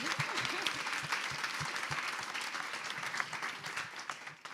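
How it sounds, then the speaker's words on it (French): Audience applause at a French climate-justice talk, a dense steady wash of many hands clapping throughout, fairly even in level and fading slightly at the end. "On applaudit."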